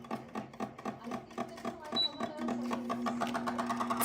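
An air conditioner fan gives off a fast, rhythmic rattling tick that settles into a steadier hum, with people talking over it.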